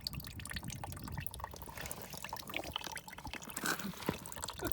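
Trapped water pours and drips out through a drilled hole in the floor of a Sprinter van, a continuous splashing trickle with irregular droplet spatters, close by and moderately loud.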